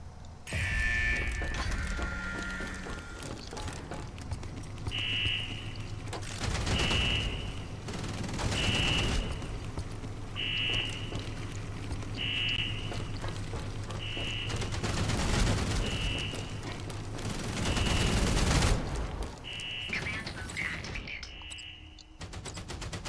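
Machine gun fire in the video game Outpost: Infinity Siege, with sustained bursts of rapid gunfire rising and falling under game sound effects and a repeating electronic beep.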